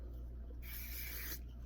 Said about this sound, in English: So I'll just kind of spray a little bit.